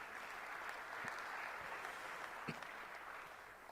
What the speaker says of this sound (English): A big round of applause to the young people.